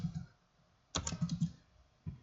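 Typing on a computer keyboard: a short run of quick, close key clicks, then a pause and one more tap, heard alone in a quiet room.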